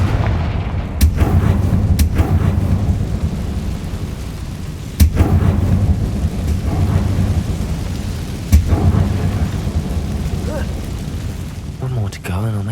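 Booming fire-spell blasts go off in Hogwarts Legacy, with several loud, rumbling explosions spaced a few seconds apart over a continuous roar of crackling, thunder-like noise.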